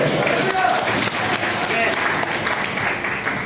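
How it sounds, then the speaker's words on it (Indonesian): Congregation applauding during a Sunday church service, sustained clapping from many people filling the room at a strong, even level, with voices mixed in underneath. "Yang percaya berikan tepuk tangan buat Tuhan."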